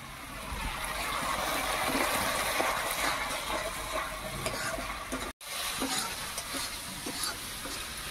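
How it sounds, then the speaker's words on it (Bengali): Spice paste with tomato paste and Kashmiri chili powder frying and being stirred in a pan for fish and cauliflower, a steady close sizzle with scraping stir sounds, briefly cut by a short gap of silence. "মশলাটা খুব সুন্দরভাবে ভাজা হয়ে গেছে।"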